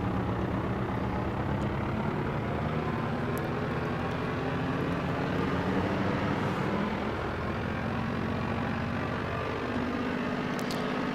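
A Pe-2 bomber's twin piston engines throttle up gradually for takeoff in IL-2 1946, a steady, loud droning hum with slowly shifting pitch that runs unbroken throughout.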